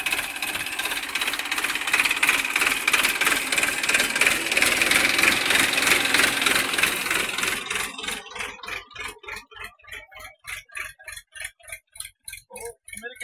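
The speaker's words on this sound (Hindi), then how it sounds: "ये मेरा ट्रैक्टर जा रहा है" A tractor drives through a field of garlic and potato crops, its engine giving a steady rhythmic chugging that starts loud and then recedes, turning into fainter, clearly spaced thumps as it moves away.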